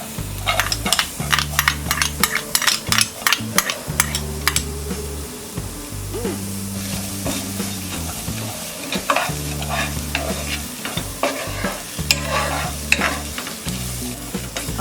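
Sliced onion cooks in a dry pan with no oil for poha, giving a soft sizzle under frequent rhythmic scraping and stirring strokes, with bursts of spatula clatter throughout.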